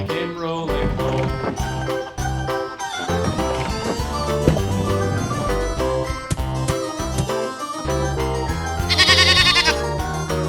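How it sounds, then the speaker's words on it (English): Farm goat bleating, layered over a loud children's song with steady instruments and a bright jingle near the end. "Goat."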